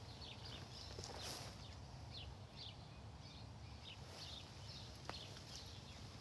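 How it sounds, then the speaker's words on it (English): Sparrows and fantails sing faintly in the distance, with short high chirps repeating at irregular intervals over a broad, steady outdoor background hiss, with no voices. "at the moment I can hear sparrows"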